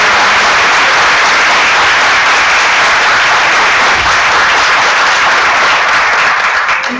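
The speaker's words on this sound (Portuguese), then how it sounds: "a quem eu peço uma salva de palmas especial" Dense, steady applause from a congress audience at a medical education conference in northeastern Brazil, sustained and loud for the whole stretch with no voices on top.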